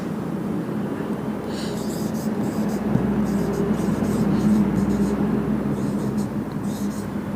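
Marker or chalk strokes on a classroom board during a mensuration lesson on quadrilaterals, a steady scratchy scraping that runs the whole time under a low background hum, with no talk.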